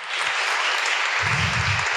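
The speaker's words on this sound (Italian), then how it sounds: "Le fate un applauso per favore, Elena" Audience applause for Elena at an Italian book presentation, a steady wash of clapping filling the room, loud and continuous, with a low rumble swelling in the second half.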